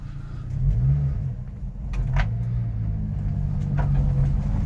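A 1992 Subaru Sambar KS4 minitruck's small engine rumbles steadily as the truck pulls forward, a low continuous drone close by with slight swells in revving and no talk.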